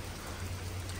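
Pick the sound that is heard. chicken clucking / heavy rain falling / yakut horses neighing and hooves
heavy rain falling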